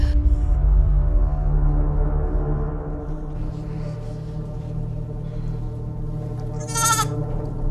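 A sheep bleats in a long, wavering, nasal call close by, followed by a quieter stretch and another short bleat near the end.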